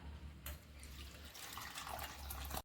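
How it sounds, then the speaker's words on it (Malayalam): Strained tamarind water pours in a steady, close splashing stream onto a chilli and onion mixture, running continuously before stopping abruptly. "ഇനി നമുക്ക് മുളകിന്റെയും ഉള്ളിയുടെയും കൂട്ടിലേക്ക് ഇത് അരിച്ച് ഒഴിച്ചു കൊടുക്കാം"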